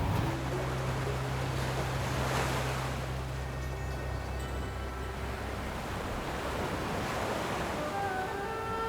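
Surf breaks steadily on a white sand beach along the wild Pacific coast near Hakai, a continuous wash of waves with wind rushing across the microphone, no voices present.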